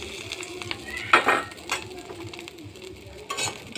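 Dried fish (shutki) frying in a pan for a mashed fish bharta, with a soft sizzle under clinking utensil and pan contact sounds and one louder scrape near the middle.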